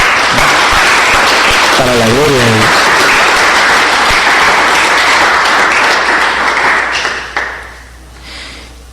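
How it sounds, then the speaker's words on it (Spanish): A Catholic church congregation claps loudly and continuously for several seconds, with one voice briefly calling out over the applause before the clapping thins out and fades. "Eso se merece un aplauso."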